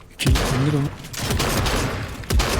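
Gunfire in a Fortnite arena match: a rapid, close volley of shots sounds, with a sharp burst at the start and another near the end, and brief voiced chatter mixed in.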